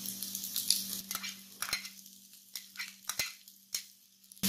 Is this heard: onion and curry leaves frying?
yes